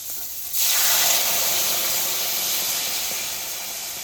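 Water poured into a hot pan holding salt, turmeric and chillies bursts into a loud, sharp hiss and sizzle, then settles into a steady, slowly fading steam hiss.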